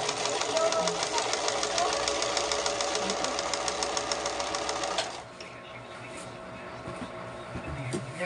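A sewing machine stitching fast with a rapid, even mechanical chatter for about five seconds before slowing to a quieter hum, recorded close up in a home tailoring workspace.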